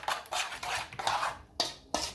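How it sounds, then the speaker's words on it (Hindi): Chicken marinade with a little food colouring stirred in a dish, giving bursts of scraping, clinking utensil-on-bowl sounds in irregular strokes, close and fairly soft, with no talking. "इसको अच्छी तरह मिक्स करूँगा दोबारा"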